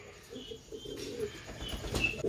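Pigeons held in a net give quiet, soft coos in short rolling phrases, nearby but faint, with a few light rustles toward the end and no speech.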